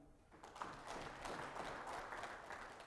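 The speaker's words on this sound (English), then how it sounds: "Please clap for him." Scattered clapping from a conference audience at a CEOs' conclave in Bangalore builds quickly after a brief quiet moment and continues as a moderate, fairly even patter.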